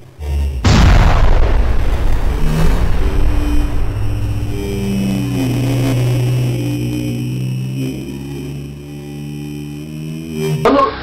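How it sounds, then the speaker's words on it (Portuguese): A loud explosion in a tokusatsu-style TV series erupts with a sharp boom, then a long rolling rumble that slowly fades under sustained low tones, with a second burst right at the end. "A explosão acontece lá atrás."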